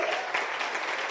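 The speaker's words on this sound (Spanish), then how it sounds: "Un aplauso a Erich" A short snatch of audience applause at an opening event, a dense patter of clapping with no voices over it.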